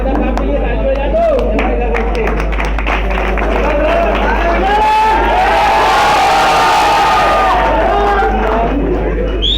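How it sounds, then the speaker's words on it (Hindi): A crowd applauding and cheering as guests are welcomed with trophies at a prize distribution for a high-flying pigeon tournament, loud and sustained, with voices and whoops mixed into the clapping. "ट्रॉफी देके तालियों से इस्तकबाल किया जाए।"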